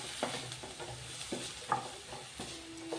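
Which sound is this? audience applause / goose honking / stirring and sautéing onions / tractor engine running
stirring and sautéing onions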